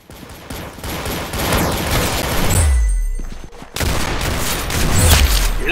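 Rapid bursts of Roblox video game gunfire crackle over a constant busy backdrop, with deep booming thuds around the middle and end and a brief near-silent gap between volleys.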